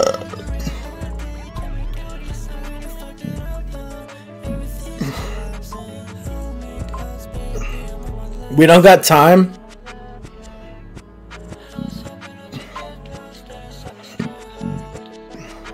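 A man burps once, a loud, abrupt burst in the middle of casual conversational speech during an interview, with talking continuing before and after it.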